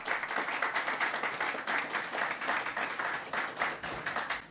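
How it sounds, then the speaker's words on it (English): An audience applauds at a press event after the mayor is honored, a steady wash of clapping heard at moderate distance with no talk over it. "Let's give the mayor a round of applause."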